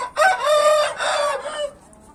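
A rooster crows once, loud and close, in a backyard with chickens, a single drawn-out call that ends abruptly into near silence.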